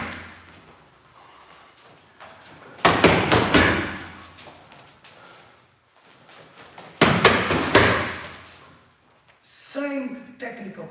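Krav Maga punches and kicks hit a heavy boxing bag in two fast, explosive flurries of loud thuds separated by a lull, followed by a further burst of activity near the end.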